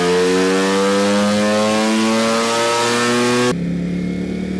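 Ducati Panigale V4 sport motorcycle pulling away and accelerating, its engine note climbing steadily in a loud, close, rising howl for several seconds before dropping sharply as the rider shifts, with no voices.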